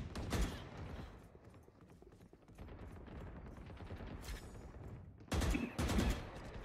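Rapid gunfire in the Valorant video game comes in bursts, with a loud cluster at the start and two sharp, close bursts near the end over a low, busy background of game sound.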